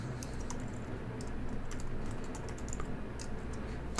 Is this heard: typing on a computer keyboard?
yes